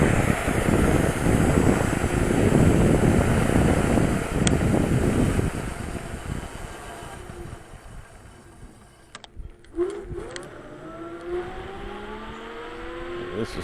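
A Splach Titan electric scooter climbs a steep hill at full throttle, with a loud rushing wind-and-motor roar that eases after several seconds into a quieter rising whine.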